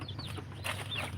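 A few faint, high chirping calls from chickens, brief and scattered, over a low steady background hum.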